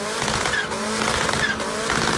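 A Tofaş car with an aftermarket exhaust in the racing game Assetto Corsa roars with a raspy, buzzing exhaust note, revving steadily and echoing through a tunnel.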